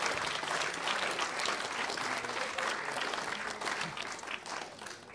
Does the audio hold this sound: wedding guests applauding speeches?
yes